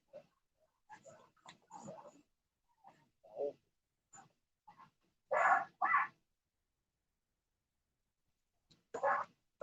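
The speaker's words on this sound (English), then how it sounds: "Dog's going nuts in the house." A dog barks indoors inside a house, a handful of short bursts spread irregularly over several seconds with quiet gaps, moderately loud and unaccompanied by talk.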